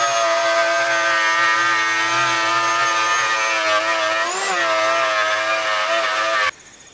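A handheld router fitted with a laminate trim bit trims overhanging plywood along the bottom panels of an 18-foot sailboat hull, giving a loud, steady high-pitched whine that holds for about six seconds, dips briefly, then cuts off abruptly.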